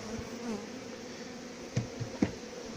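Bees and wasps buzz steadily around spent honey frames at a beekeeper's winter nuc preparation, a soft continuous hum with a few brief louder passes close by.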